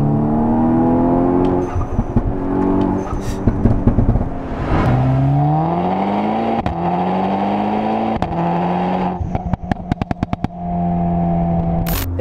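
A VW Golf 6 R tuned to Stage 2+ with a downpipe and dump valve revs hard and repeatedly, the engine pitch rising and falling, with sharp pops and crackles between revs, loud and close.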